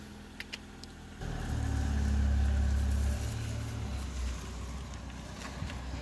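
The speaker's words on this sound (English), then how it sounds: "So Jack's just driving it outside now to park it up." A Ford Fiesta engine runs outdoors as the car pulls away to park, rising to a loud steady rumble before easing back to a lower idle-like drone.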